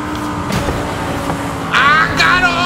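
Audi R8 accelerating in Forza Horizon 5 on Xbox Series X, a steady droning engine tone that swells louder and rises in pitch near the end, with excited talking partly over it.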